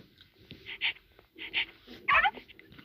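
A puppy whimpering and yipping in a few short, high-pitched bursts, close by, with soft background noise between them.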